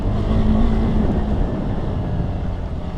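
A KTM Adventure 390 motorcycle riding off-road on a hill climb, its engine a steady low drone with wind rumble against the microphone, swelling slightly early on and then holding even.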